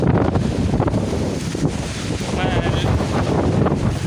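Stormy wind with rain on a farm buffets the microphone in a loud continuous roar, gusting throughout, while a voice speaks faintly underneath.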